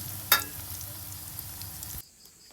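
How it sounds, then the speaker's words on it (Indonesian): Seasoning for nasi liwet sizzling in hot oil in a pan: a steady close frying hiss with one sharp crackle near the start, cutting off abruptly shortly before the end. "goreng pikeun bumbu liwat ya baraya"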